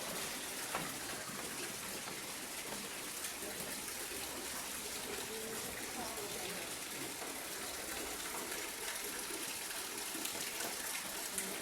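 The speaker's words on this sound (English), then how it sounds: "this is where you definitely get the water scene and waterfall" Steady, broad rushing of a waterfall and flowing stream at Frank Lloyd Wright's Fallingwater house, moderately loud and unbroken throughout, with no talking over it.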